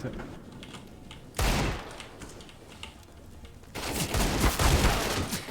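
Bursts of rapid gunfire in Counter-Strike, one sudden loud volley followed by a longer sustained stretch of shooting, with quieter background noise between them.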